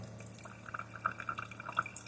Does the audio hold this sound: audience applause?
no